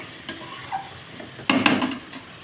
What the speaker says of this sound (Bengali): মোচাটা একটু কষিয়ে নেবো মোজাটা সেদ্ধ করা একটু কষিয়ে নেব মোজাটা